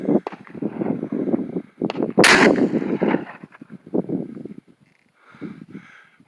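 Shotgun blasts on a firing range: a couple of sharp bangs, one especially loud and broadband near the middle, punctuating a busy, rumbling outdoor background.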